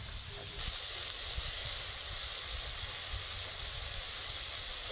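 Shredded cabbage sizzles in a hot pan with green chili sauce and dark soy sauce for momo filling, a steady, fairly quiet hiss running throughout with faint low stirring bumps.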